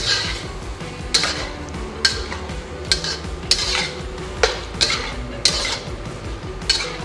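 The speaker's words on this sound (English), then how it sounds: "Just give it a little stir." Shrimp and leafy green stir-fry noodles are stirred in a pan, with a utensil clinking against metal in a fairly regular rhythm of sharp taps over a soft background sizzle.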